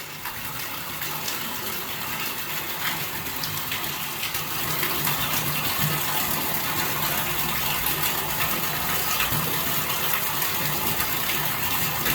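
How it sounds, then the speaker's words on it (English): Water gushes steadily into a large tank, fed from a cistern and a well, a continuous close splashing rush that swells slightly partway through with no talking. "fill this tank here on up the rest of the way from cistern and from the well both"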